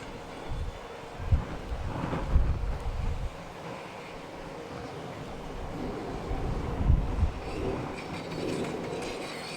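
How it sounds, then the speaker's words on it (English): Gusts of wind buffet the microphone in low, rumbling bursts that swell and fade over a steady outdoor hiss, beside a model steam engine. "A bit windy today, but can't do much about it"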